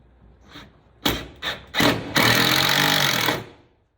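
A power driver sinks 3/4 inch bronze screws into a wooden bulkhead aboard a Pearson Ensign sailboat: three short whirring bursts, then one longer sustained run that winds down, close and fairly loud.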